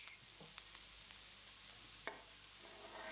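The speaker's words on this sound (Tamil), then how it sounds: "கூடவே கொஞ்சம் கருவேப்பிலை வாசனைக்காக எல்லாத்தையுமே நல்லா வதக்கி விட்டுடலாம்" Vegetables with curry leaves sizzle steadily in a hot pan, with occasional clinks and scrapes of stirring.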